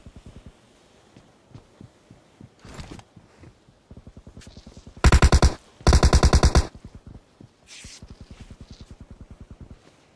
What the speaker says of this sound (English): I just got shot through the bricks.